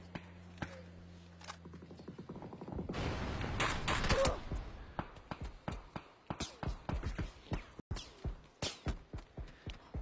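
Gunfire during a PUBG-style battle royale esports match: a dense burst of rapid shots swells up, then gives way to a steady series of separate loud bangs, with faint game ambience underneath.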